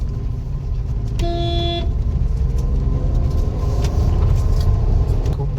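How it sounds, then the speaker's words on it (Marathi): A car climbs a hill-station ghat road in first gear, its engine a steady low drone throughout, with one short horn toot early on. "काश्मीरच्या घाटामध्ये एंट्री केली फर्स्ट गेअरवरच गाडी घ्यायची"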